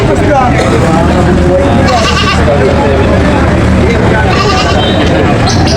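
Goats bleat repeatedly amid a busy crowd, their calls mixing with steady background chatter and market noise.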